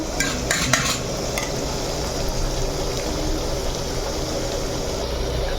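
Onions browning in a pan for a desi chicken curry, a steady loud sizzle with spatula stirring and a few metallic scrapes and clinks near the start, continuous with no talking.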